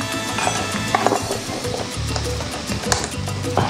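Garlic and beef for spicy lemon beef stir-frying in a pan, a steady sizzle with repeated scraping stirs and occasional clinks of utensil on metal, close and fairly loud.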